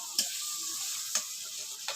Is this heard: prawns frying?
yes